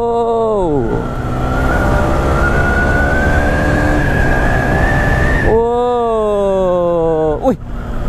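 A Yamaha R15 V3 motorcycle from 2017 revs hard through the gears on a test ride, its engine note rising steadily in pitch, then dropping and climbing again after a shift, loud and close with wind rush throughout.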